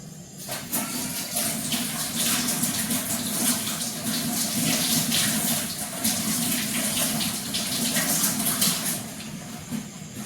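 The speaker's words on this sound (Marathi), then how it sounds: "आणि आता हे मी साफ करून घेतल्याला धुवून घेते मी." Homegrown ridge gourds washed by hand under a running tap, a steady close splash and gush of water with rubbing and knocking sounds over about ten seconds, no talking.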